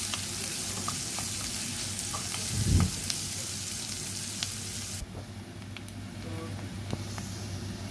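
Small onions sizzling and being stirred in a pan while sautéing for a broad bean gravy, a steady frying hiss with occasional scraping stirs and a louder stir burst midway.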